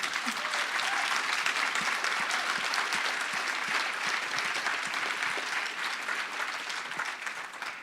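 Sustained applause from a large audience at a panel discussion, steady and loud throughout, with individual claps audible close by and slowly tapering at the end.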